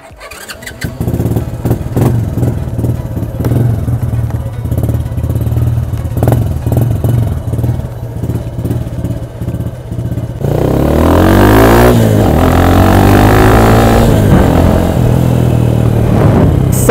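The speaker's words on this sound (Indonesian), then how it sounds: "jom kita test top speed motor Chris Modenas MR1 ni" A Modenas Kriss MR1 motorcycle engine idles with a loud, clattering throb, then revs hard and accelerates toward top speed, its pitch climbing through gear changes.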